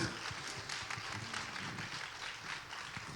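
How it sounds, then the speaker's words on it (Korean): A church congregation applauding during a Sunday worship service, a faint, dense patter of clapping with a few voices underneath. "Pode aplaudir? 하나님께 영광의 박수."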